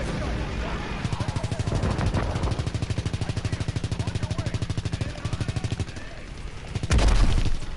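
Machine gun fire in the video game Call of Duty: WWII rattles in a long, rapid burst of evenly spaced shots, followed by a heavier boom near the end.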